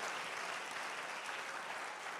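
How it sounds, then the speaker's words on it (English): Church congregation clapping during a prayer and fasting week service, a continuous quiet wash of many hands, fairly distant and even, with no talk over it. "Clap to Jesus."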